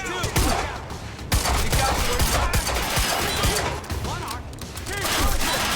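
Loud, continuous gunfire in the video game Quantum Break, rapid overlapping shots and bursts crackling without a break across the whole stretch, with a character shouting briefly over the fusillade.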